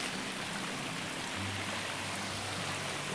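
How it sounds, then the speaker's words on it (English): A creek flowing through snowy winter woods, a steady broadband rush of water close by that keeps a constant level, with a faint low hum underneath. "Climb over this creek right here."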